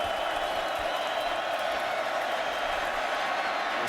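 Stadium crowd at an Ohio State at Michigan State college football game, a steady, far-off wash of roaring and cheering that holds level throughout with no distinct voices standing out.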